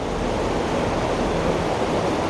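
A mountain stream near a footpath crossing on the trek from Gangotri to Gomukh rushes steadily. The water gives a loud, continuous, close roar with no pauses.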